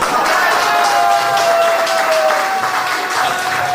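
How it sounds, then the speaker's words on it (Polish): An audience applauding at a whistling and singing contest, a dense, continuous burst of many hands clapping, loud and sustained, with crowd noise underneath. "Proszę Państwa, gromkie brawa, gromkie brawa."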